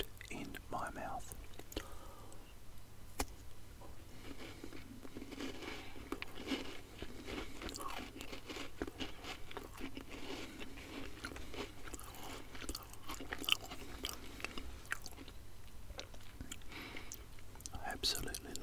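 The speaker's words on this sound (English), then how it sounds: "Chocolate mint creams. So I'm going to pop that in my mouth." Chocolate mint creme biscuits are bitten and chewed right at the microphone, with soft crunching and wet chewing running throughout while a quiet whispering voice talks over them.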